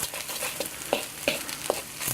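Eggs scrambled into fried rice in a pan give a soft background sizzle, broken by a few sharp scraping stirs of a utensil against the pan at irregular intervals, close and moderately loud.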